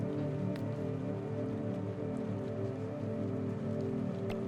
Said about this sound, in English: Hate the fucking rain.